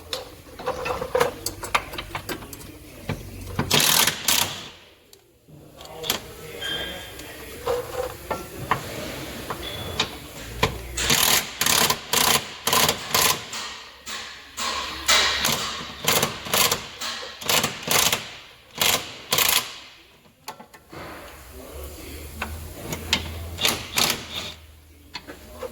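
A Mac brushless power tool with a 17 mm socket works on the cradle bolts of a 2009 Subaru Legacy, sounding in repeated loud bursts of rapid rattling with short pauses and metallic clatter between them.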